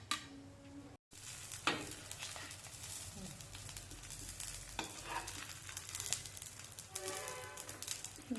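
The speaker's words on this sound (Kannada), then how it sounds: "ಈ ಥರ ಡೀಪ್ ಫ್ರೈ ಮಾಡ್ಕೋಬೇಕು" Stuffed chapati rolls of aloo paneer tikka deep fry in hot oil with a steady crackling sizzle, punctuated by occasional stirring clinks of a utensil against the pan.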